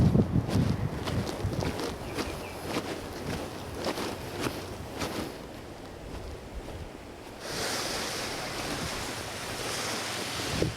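Ocean surf washes steadily onto a beach on Bequia island in the Grenadines, a continuous broadband roar with gusty wind buffeting the microphone that grows brighter and more hissing in the last few seconds; no voices.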